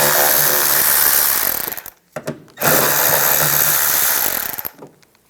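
A power drill spins a 7mm socket to back screws out of a 2015-2020 Cadillac Escalade inner fender liner, loud and close, with two long whirring runs split by a short stop and a brief burst of revving.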